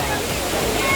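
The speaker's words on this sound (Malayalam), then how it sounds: "നമ്മളൊന്ന് വെള്ളച്ചാട്ടത്തിൽ ഒന്ന് ജസ്റ്റ് കുളിച്ചിട്ടോ." Short burst of dense, hissing water roar from Dudhsagar waterfall in Goa, close and steady for about a second.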